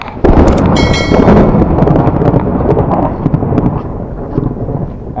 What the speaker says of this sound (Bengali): একটা বৃষ্টিটা সবে শেষ হলো আর বজ্রঘাত পড়লো, দেখলেন তো, মানে একটা আওয়াজ হলো ভয়ঙ্কর